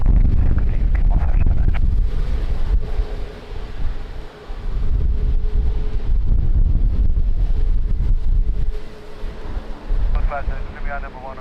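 Strong gusting wind, around 32 knots, roars across the microphone at Lisbon Airport, a continuous heavy rumble that swells and eases, with a faint aircraft drone beneath it.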